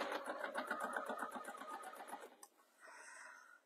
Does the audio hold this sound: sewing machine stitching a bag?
yes